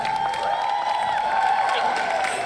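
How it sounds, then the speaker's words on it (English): An awards-event audience screams and cheers, a dense, steady roar of many voices with high whoops and scattered applause, sustained and fairly loud throughout. "I want the screaming that I heard for the people with outfits."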